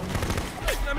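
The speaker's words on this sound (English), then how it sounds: "Targets are firing on us!" Gunfire in the military tactics game Full Spectrum Warrior, a few rapid shots in a short burst mixed with combat sounds, with a voice briefly calling out over the shooting.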